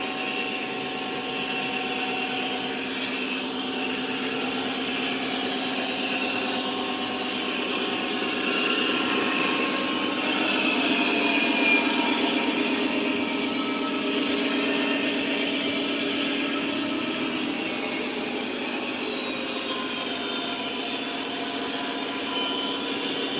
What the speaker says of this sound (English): These trains get really loud.